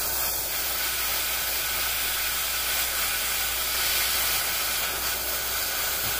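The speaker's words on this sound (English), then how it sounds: "Moving real subtle motions with the airbrush, with the trigger." Airbrush trigger releasing a steady airy hiss of paint, worked in subtle motions over a Space Marine Captain miniature; continuous, close and even throughout.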